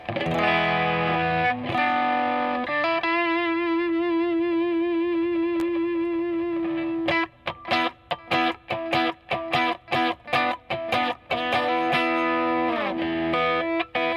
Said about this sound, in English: check out this grit knob, which dials in a bit of a Germanium fuzz